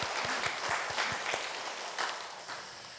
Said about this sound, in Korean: 우리 하나님께 영광의 박수를 올려드릴까요?